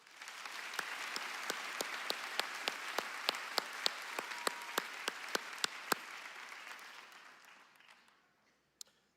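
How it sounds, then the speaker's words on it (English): A high school class of 2024 graduation crowd applauds steadily for several seconds, with a few sharp, loud individual claps standing out over the dense wash before it fades to near silence near the end. "Please join me with a round of applause for all of our leaders."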